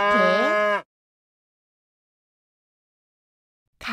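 A single loud, drawn-out cow moo, followed by three seconds of silence before another moo begins right at the end.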